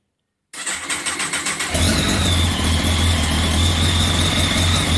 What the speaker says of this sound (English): I wonder if the bike could start.